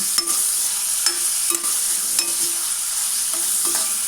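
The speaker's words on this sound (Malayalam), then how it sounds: "ഒരു ചട്ടി അടുപ്പത്ത് വെച്ച് എനിക്ക് വെളിച്ചെണ്ണ ഒഴിച്ച് കൊടുക്കുക എന്നിട്ട് ചെറിയ ഉള്ളി ചെറുതാക്കി കഷ്ണം വെട്ടിയിട്ട് ഇട്ട് കൊടുക്കുക എന്നിട്ട് അതൊന്ന് വാട്ടിയെടുക്കണം" Chopped shallots sauté in coconut oil in a pan, giving a constant loud sizzle broken by occasional spatula scrapes and taps against the pan, heard up close with no voices.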